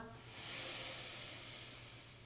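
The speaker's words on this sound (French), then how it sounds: "Et on expire." A long, slow exhaling breath during a yoga breathing exercise, an airy hiss that swells and then fades gently, close and alone.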